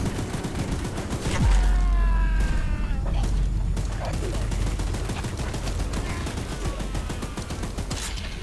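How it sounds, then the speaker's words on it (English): Rapid automatic gunfire from a machine gun in the video game Choo Choo Charles, a loud sustained burst of shots with sharp crashes and mechanical clatter, continuing steadily throughout. "Don't let the gun overheat!"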